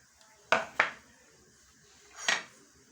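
Chickpeas are added to a bowl of yogurt spiced with chaat masala, salt and crushed red chilli, giving a few close, sharp clinks and knocks of utensil against the bowl in an otherwise quiet kitchen.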